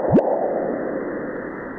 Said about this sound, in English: That's literally a meteor hitting Mars.